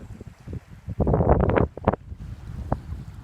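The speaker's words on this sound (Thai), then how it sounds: "แต่วันนี้ลมเย็นมากเลยครับ" Cool wind gusts roar and buffet the microphone beside the Mekong River during a rainy-day fishing trip, with rumbling low noise swelling into a stronger gust midway.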